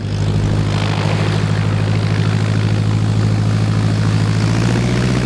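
Small propeller airplane flown by a base jumper, its engine giving a loud, steady droning hum with a low buzzing tone throughout, close and continuous with no voices.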